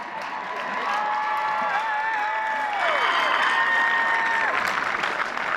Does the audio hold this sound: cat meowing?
no